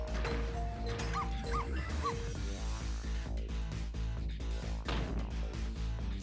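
A dog in a video game barks and yips several times, then whimpers, over continuous loud game music and ambient sound.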